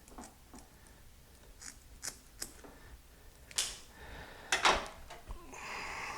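Wire on a GM engine wiring harness is snipped with cutters. Several faint, sharp clicks and snips are spread out, with a louder pair of cuts near the end amid quiet workshop handling noise.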